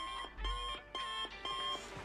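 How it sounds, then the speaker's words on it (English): Alarm clock ringing in the farm-restoration game Barn Finders, set in 1991 America: a clear electronic beeping tone in repeated bursts with short gaps, loud and close, with no talking. "Alarm clock going off."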